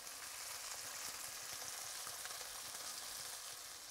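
A basa fish fillet fries steadily in a pan, giving a continuous, even sizzle and crackle from start to finish, close and clear with no voices.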